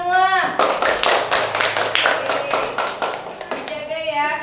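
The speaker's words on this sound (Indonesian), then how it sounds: "Tepuk tangan untuk kita semua." Classroom applause, a short burst of many hands clapping from a group of children, framed by a teacher's voice speaking before and after.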